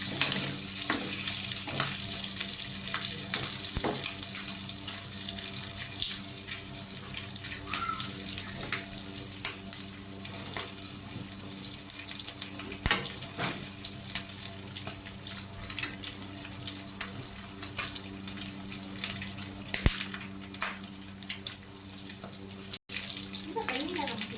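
Pork rinds (chicharon) frying in oil in a home kitchen, sputtering with broadband sizzle and scattered sharp pops and crackles throughout, steady and close.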